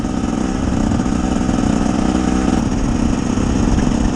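A 2024 KTM 300 XCW TBI two-stroke dirt bike cruising in 4th gear at about 25 mph, a loud, steady engine drone with constant wind rush, heard up close and alone throughout.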